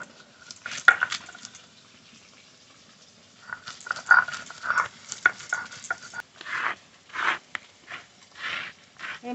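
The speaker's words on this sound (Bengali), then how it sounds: "আদা রসুনের মধ্যে কটা কাঁচা লঙ্কাও বেটে নেব।" Green chillies ground together with ginger and garlic into a paste for a silver carp curry: rough scraping strokes, sparse at first, then a steady rhythmic run of grinding passes close by.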